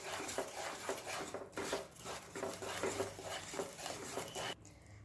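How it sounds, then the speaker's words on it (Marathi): Jaggery melting in a pan for sesame ladoos, stirred with a spoon that scrapes and taps against the metal in a repeated rhythm, close and fairly quiet, then stopping abruptly near the end. "आणि सारखं असं हे ढवळायचं आहे, म्हणजे गूळ हा साईडनी लागला जात नाही।"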